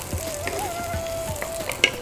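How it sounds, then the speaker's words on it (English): Diced pumpkin gets stirred into a South Indian mor kuzhambu curry pot, giving soft sizzling with a few brief scrapes and clinks of a spoon against the pot. "Just give it a quick stir."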